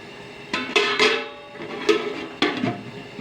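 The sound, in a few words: pot being covered with lid while cooking beef pulao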